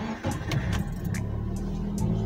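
A car engine is started and settles into a steady idle, a low continuous rumble with a few faint mechanical clicks over it, while an oil pressure gauge is being installed.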